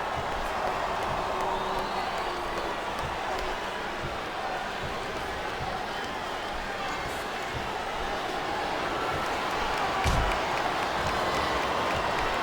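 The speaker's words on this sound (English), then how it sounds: "Now the fans start to cheer for him." Wrestling fans in an arena during a WWE handicap match featuring Bobby Lashley, Umaga and the McMahons keep up a continuous roar of cheering and applause, with scattered louder shouts and a brief thump near the end.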